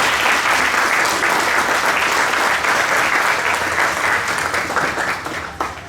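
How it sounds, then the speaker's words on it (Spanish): A church congregation gives strong, sustained applause during an anniversary service, loud and dense clapping that continues for several seconds before tapering off at the end. "quisiera que le des un aplauso a nuestro Señor Jesucristo."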